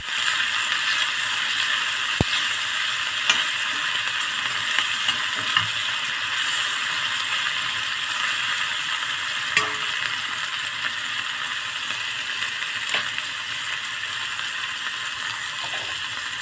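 Tomatoes fry in a pan with a steady, soft sizzle that hisses continuously, broken by a few faint clicks and stirring taps, with no talking.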